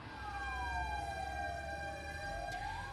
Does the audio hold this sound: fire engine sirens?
yes